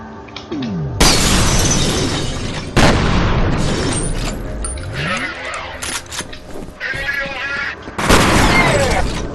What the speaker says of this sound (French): Contact avec la grenade plein dans le visage